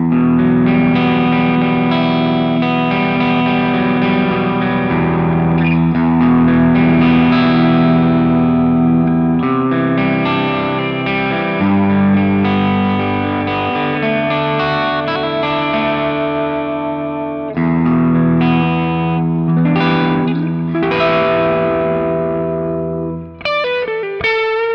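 A Gibson Les Paul Faded electric guitar plays chords and sustained notes at an edge-of-breakup tone with light effects, loud and continuous throughout, without talk.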